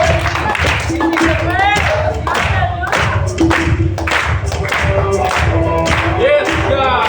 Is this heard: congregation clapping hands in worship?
yes